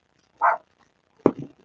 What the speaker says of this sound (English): Fritz is barking at my brother.